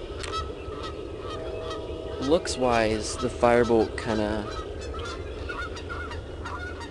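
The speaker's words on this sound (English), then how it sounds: "there go the geese." Geese honking as a flock passes outdoors, a loud burst of several overlapping honks lasting a couple of seconds, with someone talking before and after them.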